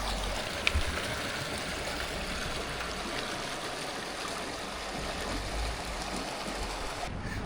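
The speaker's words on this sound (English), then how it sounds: "Got a little working water wheel over here, which looks really cool." Water rushes and splashes steadily around a working water wheel turning in a stream in a heritage area of a small town, with a single sharp knock early on.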